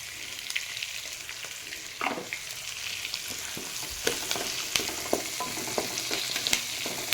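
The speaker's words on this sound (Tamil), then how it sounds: "கருவேப்பிலை போட்டுக்குவோம்." Curry leaves dropped into hot oil crackle and fry with a bright, steady sizzle, broken by several sharp spatters and spoon knocks against the pan, close up, with no talking.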